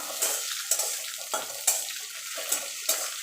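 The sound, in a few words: garlic, green and dried chillies, black cumin frying in oil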